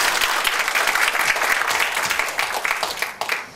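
An audience at a social welfare forum bursts into warm applause, dense steady clapping that tapers off toward the end with a few scattered final claps.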